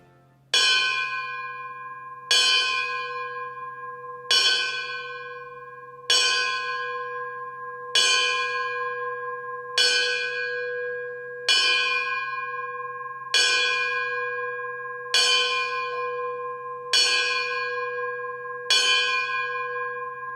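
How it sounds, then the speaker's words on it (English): A bell struck eleven times at a Veterans Day ceremony by a fire department representative, each clear ringing strike evenly spaced about two seconds apart and left to decay, with no voices. "an Arlington Fire Department representative will ring the bell 11 times."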